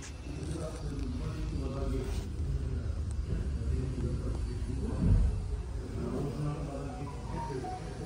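A car engine idles after a timing belt replacement, a steady low rumble running evenly with one brief swell midway, fairly close and moderate in level.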